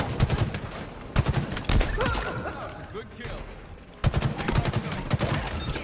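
Dense bursts of automatic gunfire in Halo Infinite ranked big-team multiplayer, loud rapid volleys with a brief lull in the middle, mixed with voices talking.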